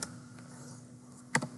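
Keys tapped on a computer keyboard while writing a Linux bash script: faint room hum, then a quick, sharp cluster of two or three close clicks near the end.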